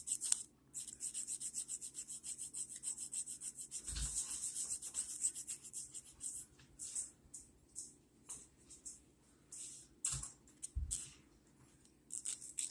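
An artificial nail tip is filed and shaped with quick, irregular bursts of close, dry scraping and rubbing strokes, with brief pauses between passes.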